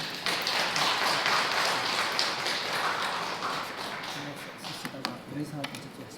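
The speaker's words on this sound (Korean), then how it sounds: "우리 박수로 한번 환영하십시다" A church congregation claps together to welcome a visiting pastor at a Korean Sunday worship service, a dense, steady patter of many hands that slowly thins out toward the end.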